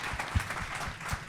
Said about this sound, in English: Give a round of applause for Jessica